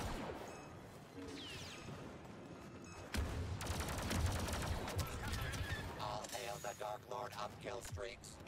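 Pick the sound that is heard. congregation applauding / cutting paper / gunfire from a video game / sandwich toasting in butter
gunfire from a video game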